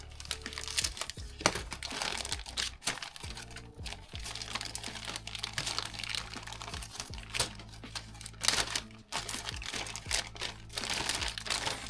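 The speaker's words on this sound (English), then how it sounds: "Just taking a while to cut a plastic bag open." A plastic bag is cut open up close, giving irregular crinkling and crackling with sharp snips and rustles spread over several seconds, without talking.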